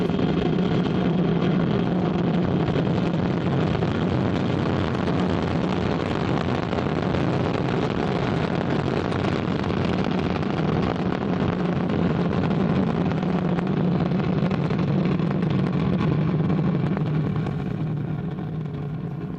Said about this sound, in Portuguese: Vamos rever as imagens do lançamento.